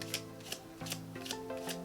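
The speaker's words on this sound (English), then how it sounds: "Alright, shuffle or run off cards. Literally running off" Playing cards riffling off one at a time in a slow overhand shuffle, a steady run of soft crisp flicks close to the microphone with no voices.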